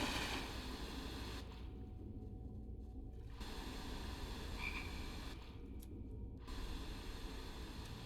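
Frogs croak steadily in the dark underground caverns of Blackreach in Skyrim, a dense, continuous chorus of low calls that stays fairly quiet and even, with no voices over it.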